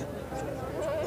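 A goat with kids bleats at a goat market, a short wavering call rising over constant crowd chatter and market noise.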